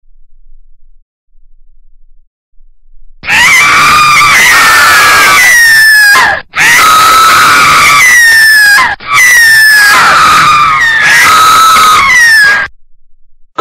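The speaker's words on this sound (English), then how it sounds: "how dare you start a banshee scream?" Children in a classroom scream together in a loud, piercing banshee-style shriek, three long sustained bursts with brief gaps, after a quieter opening stretch.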